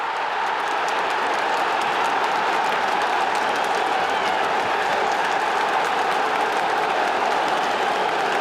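A partisan Geordie football crowd at an FA Cup match between Newcastle United and Manchester City applauds and roars in a continuous, dense wash of clapping and crowd noise, loud and unbroken throughout.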